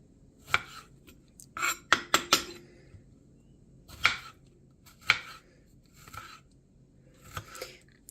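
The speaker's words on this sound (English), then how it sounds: "We're just gonna slice them up." A knife cutting through fresh strawberries on a board, light crisp clicks and taps in small irregular clusters, several quick strokes close together then spaced single cuts, fairly near and quiet.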